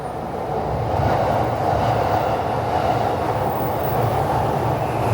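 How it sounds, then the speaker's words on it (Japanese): Loud, rumbling roar of a train passing directly overhead on an elevated track in Tokyo, heard from inside a bus stopped beneath, heavy and sustained with a rhythmic rattle of wheels over the track. "頭上を通る電車の凄まじい音が響き渡ります"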